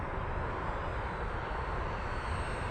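A model L-39 jet throttling back as it comes in to land, a steady, loud broadband engine roar that stays fairly even throughout, with no voices over it.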